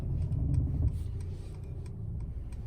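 A 2020 Mercedes-Benz steers itself out of a parallel parking space, its engine a quiet low rumble heard from inside the cabin, with faint ticking like an indicator.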